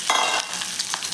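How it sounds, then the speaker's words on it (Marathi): Leftover potato bhaji hitting hot oil in a kadhai crackles and sizzles steadily at close range, with a few sharper pops and stirring scrapes rising over the continuous frying hiss. "इथे मी कढईमध्ये तेल गरम करायला ठेवलेलं आहे। त्यामध्ये आता आपल्याला ही बटाट्याची भाजी घालून घ्यायची आहे।"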